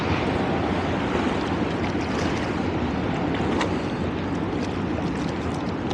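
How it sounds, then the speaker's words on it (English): Waves washing against a kayak on New York City's East River, a dense, constant rush of water and wind buffeting the microphone, close and loud with no talk. "you can see those waves right to the right hand side coming through there"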